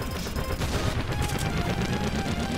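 Dense, loud rapid-fire shooting from the side-scrolling game Iconoclasts, continuous bursts with booming impacts across the whole short stretch and no talk.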